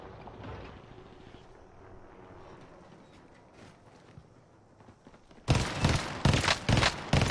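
A gunshot during a hunt rings out outdoors, followed by a cluster of loud sharp reports near the end after a quiet stretch of faint ambient rustling.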